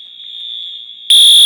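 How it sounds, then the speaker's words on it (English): Office fire alarm sounding, a piercing continuous electronic tone held steady, then jumping abruptly to a much louder, harsher blaring level near the end. "listening to this crazy fire alarm go off for an hour"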